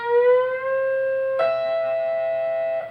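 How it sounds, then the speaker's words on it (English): An electric guitar plays a reverse bend from a song's solo: a pre-bent note glides down, then a second note is struck and rings clearly to the end. "This time we let the bend go. So it's a reverse bend."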